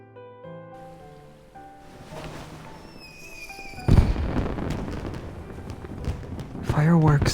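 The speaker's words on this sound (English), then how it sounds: "Fireworks are beautiful," Fireworks bursting in a romance video game scene, starting with soft musical tones, then a loud boom near four seconds followed by a continuous crackling, rain-like sizzle and further thumps, with faint voices underneath.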